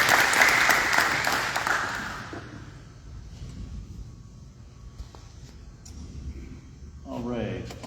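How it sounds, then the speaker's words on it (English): Audience at a veterans memorial service gives a brief round of applause that fades out after about two seconds, followed by quiet room tone and a voice speaking at the end. "Let's give him a round of applause."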